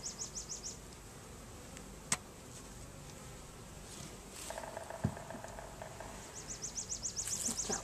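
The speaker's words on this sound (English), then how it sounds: "There's bees everywhere" Faint buzzing from honey bees around a hive, rising and falling in short bursts over quiet background rustling, with a couple of small knocks.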